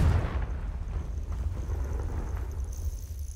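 A Confringo fire-blast spell explodes in Hogwarts Legacy, a deep, rolling boom with a heavy low rumble that holds steady for a few seconds before slowly thinning out.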